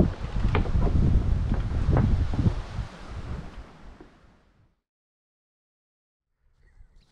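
Strong wind after a storm gusts roughly across a campsite, buffeting the microphone loudly for several seconds before suddenly dropping to near silence, with a faint gust returning at the end.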